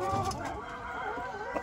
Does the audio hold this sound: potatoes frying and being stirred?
no